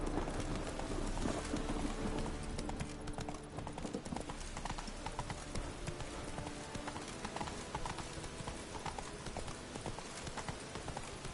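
Roach the horse galloping in The Witcher 3, with rapid, continuous hoofbeats pounding close and loud against a busy game background.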